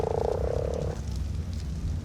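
A devil frog from the video game ARK: Survival Evolved croaks in a loud, buzzing, rapid pulsed call lasting about a second, then fades into a low ambient rumble with no talk.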